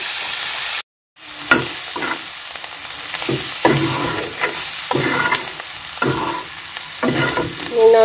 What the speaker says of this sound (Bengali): করলা ভাজি কড়াই দিচ্ছি, এখন পেঁয়াজ দিয়ে দিলাম